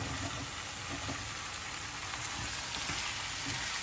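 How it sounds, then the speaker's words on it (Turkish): Diced zucchini and minced meat sizzle in a pot while being stirred, a steady close frying hiss with soft scraping underneath and no talking. "Karıştırıyorum. Böyle biraz susuz 1-2 dakika karıştıracağım."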